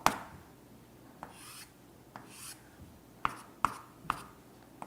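Chalk or marker writing on a board during a mathematics lecture, heard as a series of sharp taps and short scratchy strokes spaced irregularly, close and fairly clear against a quiet room, with no speech.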